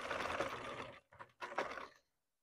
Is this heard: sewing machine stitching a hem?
yes